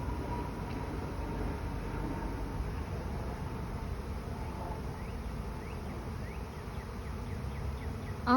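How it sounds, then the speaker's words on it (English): A swarm of honey bees arriving at a backyard hive box, heard as a dense, continuous buzzing hum that stays even throughout, with a faint mechanical drone beneath it. "there've been scout bees all over the boxes"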